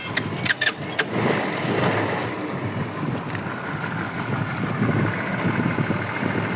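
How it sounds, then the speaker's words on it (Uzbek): A car engine idles quietly and steadily, a low even rumble held nearby after a few brief knocks at the start. "motorlari pastgina ishlab turibdi, hech qanaqa dutamaydi"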